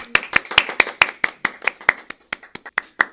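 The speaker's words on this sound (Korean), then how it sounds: "박수." Students on a podcast about companies clap together in a burst of about a dozen quick, close, sharp claps.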